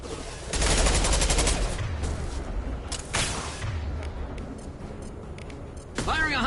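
Heavy high-impact gunshots in a Mass Effect 2 firefight, loud rapid bursts at the start and again around three seconds, followed by rumbling aftermath and a short voice at the end.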